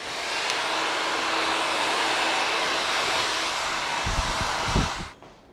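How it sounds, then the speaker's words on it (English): A blow dryer runs steadily on a cold setting while drying a client's hair at a barbershop, a loud continuous airy roar that cuts off near the end, with a few soft bumps just before it stops. "I'm going to end with uh, some cold air. You know, with, with high heat on a blow dryer"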